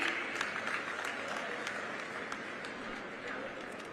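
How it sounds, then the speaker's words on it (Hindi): A crowd at a public event with the Chief Minister in Amroha claps steadily, dense applause holding evenly throughout with some voices mixed in beneath it. "आप सभी की जोरदार तालियां बनी रहे"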